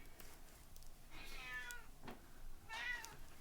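A house cat meows twice, the calls drawn out and fairly faint against quiet room noise, with no talking.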